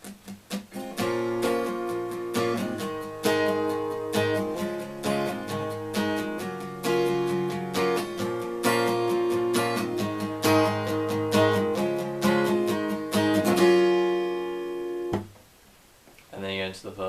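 An acoustic guitar plays the intro of a song: a run of plucked, ringing notes and chords ending on a single struck chord that stops, then a short pause.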